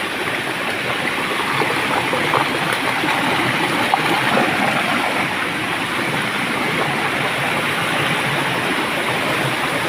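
Steady, full rushing water roars continuously from start to finish, a dense broadband wash of the Huai Ka-om waterfall in a valley, heard fairly close, with no voices.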